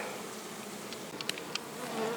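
A faint, low hum of honey bees in an open hive drones throughout, with a couple of brief ticking sounds near the middle.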